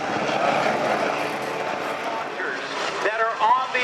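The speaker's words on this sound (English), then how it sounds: "It looks like a Black Hawk helicopter because it is." Black Hawk helicopter at the Thunder Over Michigan air show: a steady rotor and turbine drone heard at a distance beneath continuous talk from an announcer.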